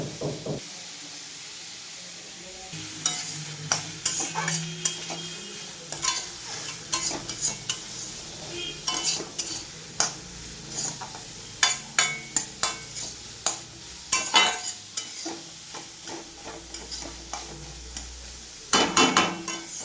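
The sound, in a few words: stirring food frying in a pan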